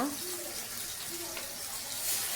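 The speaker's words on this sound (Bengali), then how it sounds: "আর দিয়ে দিলাম পানি, স্বাদ মতো লবণ" Faint, steady watery rush of water poured into a cooking pot of spiced curry, continuous and soft with a slight swell near the end, with no talking.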